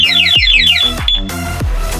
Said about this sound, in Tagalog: Pag ginalaw po na magnanakaw, una warning, pangalawa mag-alarm siya sa remote, pati sa motor.